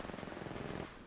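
Rapid automatic gunfire in the mobile game Apex Legends Mobile, a quick burst of close, sharp shots fired in a fast stuttering rhythm that stops abruptly.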